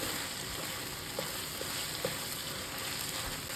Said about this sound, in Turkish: Tüm malzemeyi tekrar şöyle bir karıştırıyoruz.